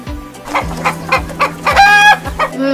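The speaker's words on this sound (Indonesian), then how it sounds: "ini adalah suara dari ayam" A rooster crows loudly in a long, rising call, mixed with repeated clucks from nearby chickens, over a steady low hum.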